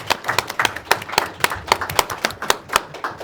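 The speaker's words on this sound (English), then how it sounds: "there's some applause here for this one." A small audience gives sparse applause after a presentation on national parks: a handful of distinct, close claps, uneven and clearly separated rather than a dense roar.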